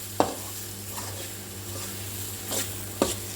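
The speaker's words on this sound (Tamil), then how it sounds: "போட்டுட்டு நம்ம நல்லா எண்ணெயில் நல்லா வதக்கிடலாம்." Chili powder and turmeric sautéing in oil for a Chettinad garlic kuzhambu, a faint steady sizzle punctuated by a couple of sharp spoon-against-pan clinks as the spices are stirred.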